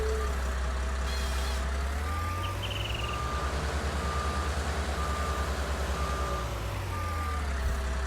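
A truck reverses in the Farm Simulator 19 video game, with an evenly spaced electronic reversing beep repeating over a steady low engine rumble and a brief air-brake hiss, no talking.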